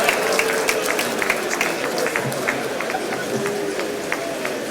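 Applause for a speaker at the Produce for Lagos programme launch in Lagos: scattered, fairly close claps running steadily under an ongoing voice.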